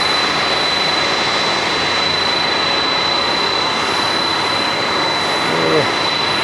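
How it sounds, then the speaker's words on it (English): Boeing 767 jet engines at Haneda, a loud, continuous roar with a steady high-pitched whine running throughout; a brief voice is heard near the end. "So noisy. So noisy, the 767."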